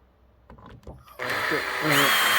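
Power driver spinning out a screw from a BMW 5 Series tail light, a sudden loud steady whine after someone speaks briefly, rising slightly in pitch near the end.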